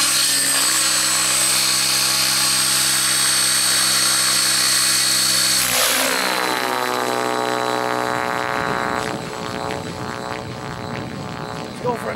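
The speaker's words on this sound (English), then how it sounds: "Very precise, very light, and overall, like, amazing, amazing helicopter." A Raptor E700 model helicopter flying hard 3D aerobatics: its high whine sweeps and shifts pitch as it maneuvers, rotor tones rising and falling, loud and close throughout.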